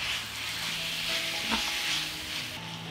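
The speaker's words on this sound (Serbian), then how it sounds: "I sve ćemo ovo pržiti još 10 minuta." Meat with red paprika and tomato paste sizzles steadily as it fries in a pan, a close continuous crackling hiss with a light stir or clink midway.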